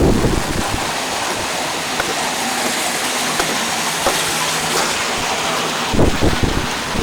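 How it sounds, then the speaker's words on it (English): Strong gusty hurricane squall wind from Hurricane Frances, September 2004, roars and buffets the microphone in a continuous loud rush, surging harder near the end, with no talking. "We got some squalls coming through."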